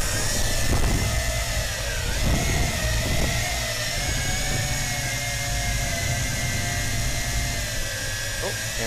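A Tarantula X6 quadcopter drone fitted with 3D printed landing skids flies and lands, its rotors whining in a loud, steady, close buzz with shifting pitch as it manoeuvres, a few bumps of contact underneath.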